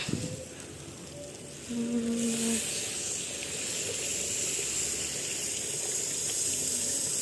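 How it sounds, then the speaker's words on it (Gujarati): Water runs steadily with a hissing, splashing rush, growing louder partway through as it pours into a pot, with faint kitchen clatter underneath. "ચડી ગયા તો પાણી નાખી દઈશું"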